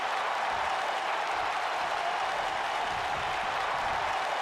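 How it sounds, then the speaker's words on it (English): A virtual arena crowd in an AEW wrestling video game roars steadily as a dense, continuous wash of cheering and applause, loud and unbroken with no voices standing out. "Crowd going crazy here as Omega comes back with a couple of elbow strikes."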